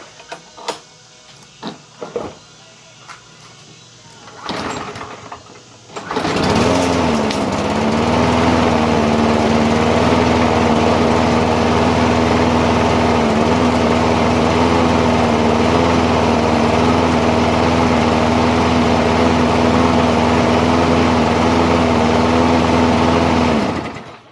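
A push lawn mower is cold-started after a few faint clicks and a brief pull, then its small engine settles into a loud, steady, high-pitched drone that runs on unbroken.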